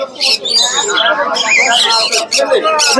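Caged birds at the Mirpur 1 bird market in Bangladesh chirp and squawk continuously in a dense, busy chorus, with market hubbub beneath.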